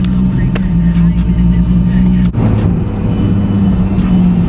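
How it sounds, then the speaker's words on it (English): Fuel pumps on a 700 WHP Nissan Nismo with a new clutch whine in a steady, loud low drone that runs without a break, alongside a faint, brief engine-like rumble. "Back to listening to these loud ass pumps."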